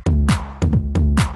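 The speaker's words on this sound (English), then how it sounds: "clap on the 2 and 4, which sounds like this" Electronic clap sample played in Ableton on beats 2 and 4 over a deep kick pattern, sharp bright claps repeating in a steady loop, loud and close.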